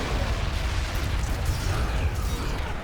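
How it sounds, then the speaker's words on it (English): A fire explosion from a Fire support summon erupts in a fantasy battle game, a dense, continuous roaring rumble that is loud and heavy at the low end and holds steady without a break. "There is the first Fire explosion"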